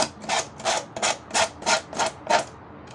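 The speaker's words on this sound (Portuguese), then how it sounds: "agora você vai pegar uma lixa de unha e vai tirar o excesso" A nail file rasps back and forth across the edge of a plastic liquid-soap bottle, trimming off excess in seven even, close strokes, each a short scratchy burst with brief pauses between.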